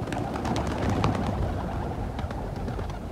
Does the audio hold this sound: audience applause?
no